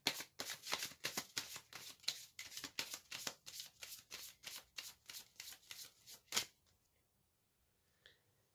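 Oracle cards are riffled and shuffled by hand in a steady run of crisp, rapid paper flicks up close, continuing for several seconds before stopping abruptly into near silence.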